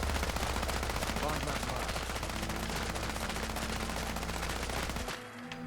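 Heavy weapon in Fallout 4 firing steadily, a loud continuous rapid-fire roar that holds for about five seconds before cutting off abruptly, leaving a quiet tail.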